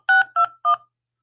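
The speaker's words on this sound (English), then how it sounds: "Using the touchpad on your phone, please enter the 4-digit PIN number that was displayed on your screen." Three crisp telephone keypad DTMF beeps sound one after another as a 4-digit PIN is entered, each short dual-tone press separated by a brief pause, then silence.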